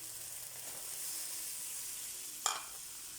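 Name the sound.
ground meat sizzling while being sautéed in a pan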